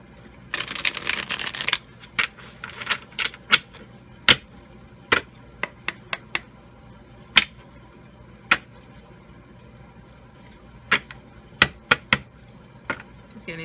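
Tarot cards being shuffled by hand, a dense riffling burst near the start followed by scattered sharp snaps and taps of cards, fairly close and clear with no talking.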